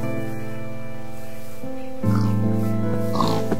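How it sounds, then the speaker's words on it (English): A pig oinks in Minecraft, short grunting snorts over steady tonal game sounds that grow slightly louder toward the end. "I want this pig. Can I have this pig?"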